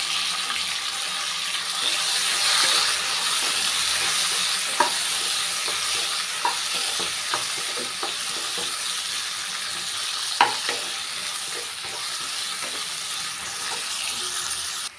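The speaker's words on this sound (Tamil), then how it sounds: "பீன்ஸும் கேரட்டும் பாருங்கள் நல்லா எண்ணெயிலே நல்லா வதங்கிருச்சு" Beans and carrots frying in oil with onion and tomato, a steady close sizzle with occasional scrapes and taps of a spoon stirring the pan, and no talking.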